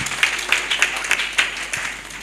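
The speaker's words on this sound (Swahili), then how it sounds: "Tupigie Mama Ronda makofi mazuri." A church congregation at a Sunday service claps in a series of uneven bursts, roughly every quarter second, moderately loud and fading toward the end.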